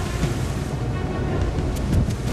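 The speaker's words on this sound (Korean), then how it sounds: "바람 자꾸 들어오거든 지금." Strong wind buffets a fishing boat out at sea off Ulleungdo while crews haul traps for Dokdo shrimp, a steady close roar of gusts and surging water with faint brief clanks, no voices.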